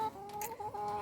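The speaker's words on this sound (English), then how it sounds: "He's just going to shake those noodles down there so the chickens can get them" Chickens cluck softly and repeatedly close by while eating noodles, short throaty notes overlapping in a brief burst.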